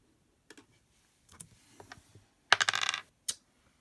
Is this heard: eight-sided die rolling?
yes